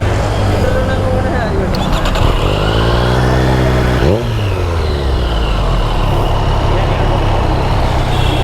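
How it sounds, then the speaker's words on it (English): A Triumph motorcycle engine revs up loudly close by, its exhaust note rising in pitch then dropping back to a rumbling idle. "I'll just take an exhaust note of it as a video"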